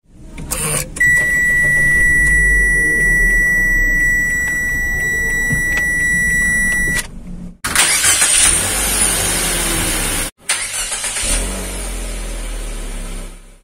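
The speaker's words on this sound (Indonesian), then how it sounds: "mari kita dengar dulu suara startup dari si Xpander Cross ini" A Mitsubishi Xpander Cross engine cranks and catches, then idles steadily with a low rumble, cutting out briefly and restarting near the end.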